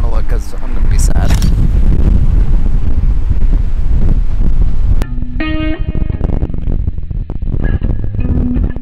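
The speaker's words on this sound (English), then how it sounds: "I'm not sure how much the wind's blowing my tripod either right now" Strong wind buffets an outdoor camera microphone at a mountain pass at sunset, a loud continuous rumble throughout with a brief electronic tone sequence partway through.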